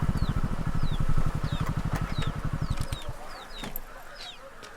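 A rapid, pulsing clucking chatter fills the first three seconds, overlaid by repeated high rising chirps, then thins to scattered calls.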